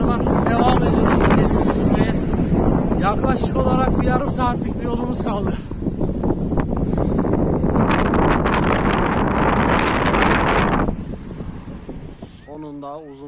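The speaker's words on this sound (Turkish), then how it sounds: "havada çok fazla rüzgar var" Strong wind buffets the microphone in a constant rushing roar during a long bicycle ride while someone talks over it; the gusting noise drops away near the end.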